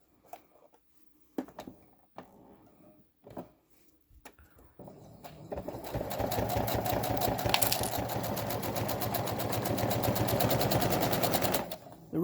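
Sewing machine stitching binding onto a quilt, a fast steady run of clattering stitches lasting several seconds after a few soft handling taps, close and fairly quiet.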